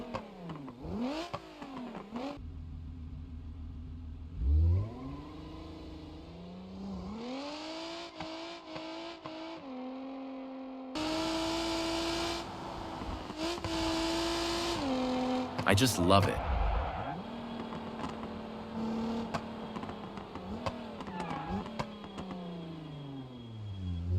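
A modded car engine in the BeamNG driving game revs up and down repeatedly with crackling pops and bangs between the pulls, close and loud, while a voice speaks briefly.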